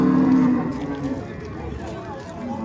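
A cow lows loudly at the Oltiariq livestock market, one drawn-out moo near the start, followed by the busy murmur of the crowded bazaar and people talking.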